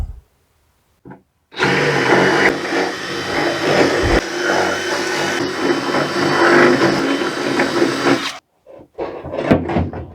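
A power drill reams out 5/16 inch holes in a fiberglass dinghy, a loud continuous whine lasting several seconds after a brief start, then stopping, with a few clicks and handling noises around it.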